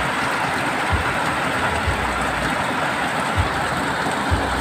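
Heavy rain pouring down, a dense steady roar of water on surfaces with occasional low thumps, with no voices.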